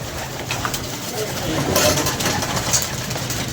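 Pigeons in a loft give soft, continuous cooing and fluttering in a close, busy flock, heard with a low hum in the background and a voice speaking over it.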